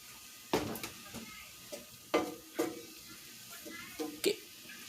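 Sauce cooking in a pan at home while it's stirred now and then, giving a soft simmer broken by several sharp clinks and scrapes of a utensil against the pan, near and fairly quiet.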